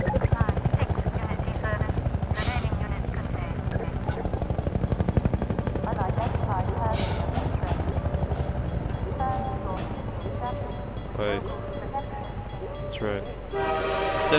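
Helicopter gunship rotor drone from Half-Life 2: Episode Two, a steady loud thrum running throughout amid game gunfire and effects, with occasional voices over it.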